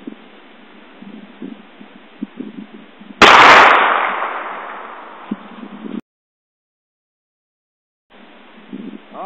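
Single sharp .22 Ruger Magnum rifle report fired at an HP desktop hard drive and case, a loud close crack with a lingering decay, set against faint outdoor background noise that cuts out briefly afterward.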